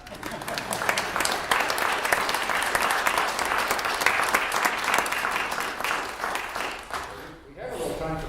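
Audience applause after a talk on Swedenborg's scientific works at a book expo: dense, sustained clapping from a room full of listeners that holds steady for several seconds, then thins and fades out near the end.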